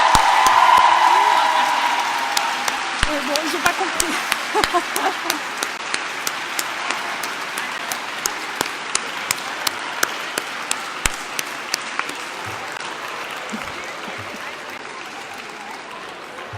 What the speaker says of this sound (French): je vais demander aux diplômés d'applaudir très très fort leurs parents